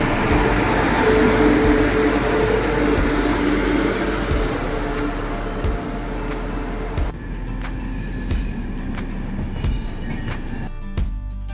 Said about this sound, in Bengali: অবশেষে 11:30টায় দেখা দিল 131-90 বালুরঘাট শিয়ালদা এক্সপ্রেস